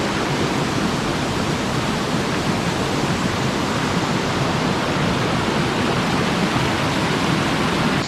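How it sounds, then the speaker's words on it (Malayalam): Urulikundu waterfall pours strongly in a steady, loud, broadband roar of rushing water with no pauses or voices. "നല്ല ഫ്ലോയിലാണ് വെള്ളം വരുന്നത്"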